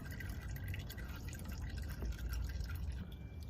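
Old engine oil drains from a 1973 AMC Gremlin and drips into a pan, a steady run of liquid patter and trickling that stays fairly close and continuous throughout with no voices.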